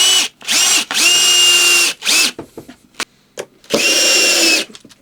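A power drill drives screws into a wooden template joining two pieces, in several short whirring bursts that ramp up and stop, close and loud, with quiet handling noises in the gaps.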